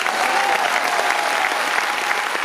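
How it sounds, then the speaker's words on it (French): An audience at a charity musical-theatre show applauds in sustained, dense, even clapping that fills the whole moment. "On peut les applaudir."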